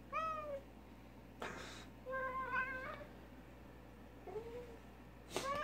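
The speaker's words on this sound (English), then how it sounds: "He's a good kitty." A cat meows several times in a quiet indoor room, short rising and falling calls spaced apart, with a few brief clicks and rustles between them.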